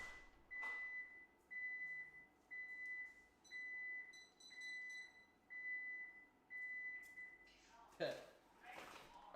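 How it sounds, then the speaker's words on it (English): An alarm rings in a room with a regular pattern of repeated electronic beeps, each burst a cluster of short tones with brief pauses, steady and moderately loud, before a person shuffles and starts speaking at the end. "My alarm went off."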